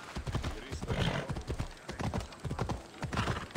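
A horse in the video game Assassin's Creed Odyssey trots with steady clip-clopping hooves and lets out a whinny, with a voice talking over it throughout.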